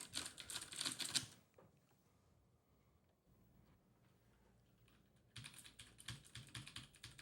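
Rapid keyboard typing clatters in two bursts, separated by a few seconds of near silence; the keystrokes are close and crisp.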